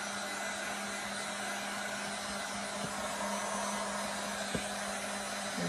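A hair dryer blows steadily on a mason jar coated in chalk paint, a loud continuous whooshing hum with a steady motor tone running the whole time, alone with no talk.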